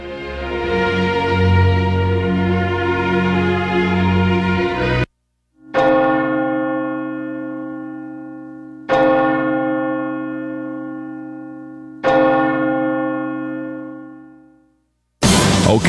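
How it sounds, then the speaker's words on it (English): A large bell tolls for a 9/11 remembrance: loud, ringing strikes spaced about three seconds apart, each ringing out in a long fading hum, heard alone without talk. "We're gonna do the tolling of the bells"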